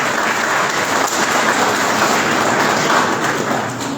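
A lecture-hall audience at a guest talk on higher education reform claps steadily and densely, a loud continuous wash of many hands with no pauses for its full length.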